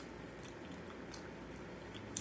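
Close chewing and crunching of Cheerios Oat Crunch cereal, a steady crisp grinding texture that continues without pause, with one sharper crunch near the end.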